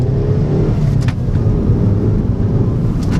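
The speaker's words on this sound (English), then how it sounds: "Now let's do a little acceleration." A Suzuki Swift Sport's 1.6 litre naturally aspirated engine pulls hard on a gravel road, a loud, steady car drone with road rumble and tyre noise throughout, no voices.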